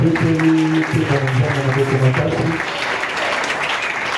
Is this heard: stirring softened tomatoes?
no